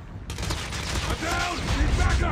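MP5 gunfire in the Call of Duty Mobile map Damascus, a dense, loud burst of rapid automatic shots with mechanical clatter, continuous across the short moment.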